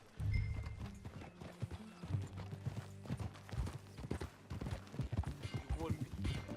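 Horse hooves clip-clop steadily in Red Dead Redemption II during a ride, close and rhythmic, with tack creaking and speech over the top.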